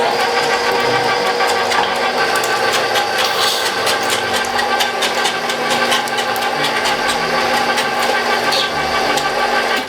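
Electric meat grinder running steadily, mincing meat chunks interleaved with pieces of fat for double burgers; a constant loud motor drone with rattling mechanical texture throughout, and a voice faintly under it.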